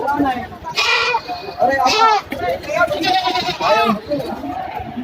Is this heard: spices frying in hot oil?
no